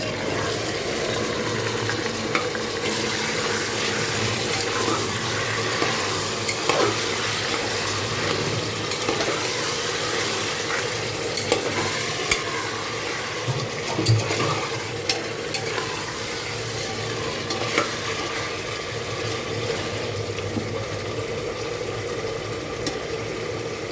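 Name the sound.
chicken frying and being stirred in a pan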